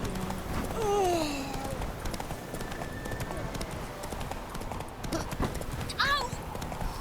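Horse gallops at a steady clip-clop in The Witcher 3 video game, rhythmic hoofbeats running throughout under game speech and background score.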